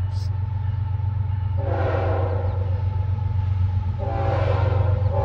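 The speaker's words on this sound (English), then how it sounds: "Ethanol train with some CN locomotives" A freight train carrying ethanol, hauled by Canadian National locomotives, rumbles steadily past close by, its horn sounding in two long blasts over the low, continuous roar of the locomotives.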